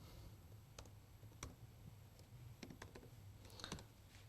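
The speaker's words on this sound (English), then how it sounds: "So I'm typing a note." Faint computer keyboard typing, a sparse run of soft key clicks at an uneven rhythm, as a note is typed during an online webinar, over a low steady hum.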